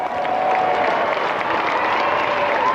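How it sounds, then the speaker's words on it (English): A stadium crowd applauds steadily and loudly after the 1997 Optus Challenge Cup practice match between Carlton and Collingwood, a dense roar of clapping with some cheering throughout. "Give them a big round of applause"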